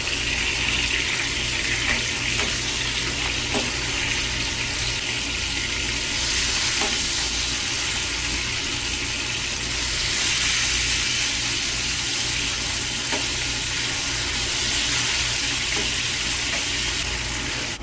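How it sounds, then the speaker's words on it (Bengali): Fish pieces fry in hot oil in a pan, giving a steady, loud, continuous sizzle with faint stirring or turning noises, close up and without voices. "এখন আমাদের মাছগুলো এক পিঠ ভাজা হয়ে গেছে, এখন অন্য পিঠ ভাজার জন্য আমরা মাছগুলোকে উল্টে দেবো"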